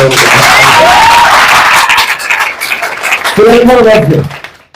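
Audience applause and cheering at a motivational business presentation, a loud sustained clatter of clapping that nearly fills the stretch, with a voice talking over it at the start and again near the end.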